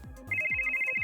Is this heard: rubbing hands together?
no